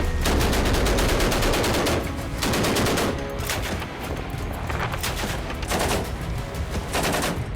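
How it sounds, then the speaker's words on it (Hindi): Rapid bursts of live gunfire and heavy cannon blasts at sea, loud and continuous, with rattling volleys and booms overlapping throughout. "तोप और गन से लाइव फायरिंग हो रही है।"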